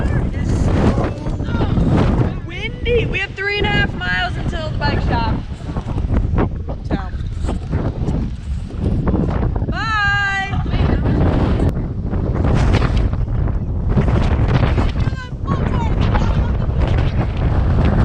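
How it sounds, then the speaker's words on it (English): Strong wind buffets the microphone throughout a bike ride through a city, a steady loud roar with people talking over it. "It is so windy."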